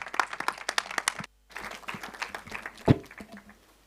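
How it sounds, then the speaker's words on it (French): Audience applause at a scientific conference on sargassum in a congress hall, a short burst of scattered clapping that stops briefly and then resumes more thinly before fading. "À nouveau des applaudissements."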